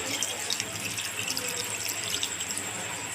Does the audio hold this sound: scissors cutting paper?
no